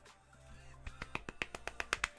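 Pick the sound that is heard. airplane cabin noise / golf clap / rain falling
golf clap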